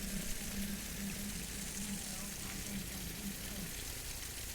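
Water gushes forcefully and continuously from a leaking supply pipe, wasting large amounts. It makes a steady, loud rushing roar with a faint voice murmuring underneath.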